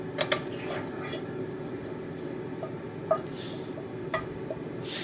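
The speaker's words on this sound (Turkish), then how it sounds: "Şöyle tabağımıza koyalım." An omelette being moved onto a plate, with a few light clinks and taps of utensil against dish over a steady low background hum, close but soft.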